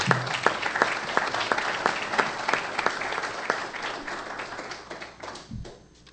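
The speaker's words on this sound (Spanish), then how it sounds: "Les pido un fuerte aplauso, por favor, para recibir a nuestro tercer invitado de honor, Guillermo Olivera Alzueto" An audience at a Masonic gathering in Mexico applauds to welcome an invited guest of honour, sharp distinct claps within a full, sustained round that fades away toward the end.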